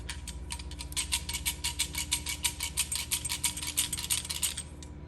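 A Yamaha R1 motorcycle with a clutch problem gives off a quiet, quick metallic rattle, a rapid even ticking over a low idling hum.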